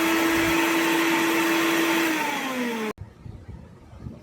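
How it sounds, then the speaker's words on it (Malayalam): A mixer grinder grinds roasted spice masala paste in its jar with a loud, steady motor whine that slows slightly, then cuts off abruptly, leaving quieter kitchen clatter. "ആറിക്കഴിഞ്ഞ് മിക്സിയുടെ ജാറിലേക്ക് ഇട്ട് അരപ്പ് നല്ലതുപോലെ അരച്ചെടുക്കും"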